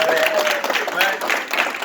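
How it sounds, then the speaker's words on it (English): An audience applauds a couple's 25 years of marriage at a comedy show, a brief burst of clapping with a voice talking over it. "Clap for that"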